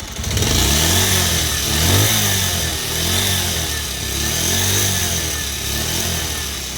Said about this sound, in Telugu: ఇప్పుడు ఇంజన్ సౌండ్ అయితే వినండి.